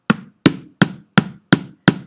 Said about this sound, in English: making my drum make a sound, right? Okay, I got a kid's drum.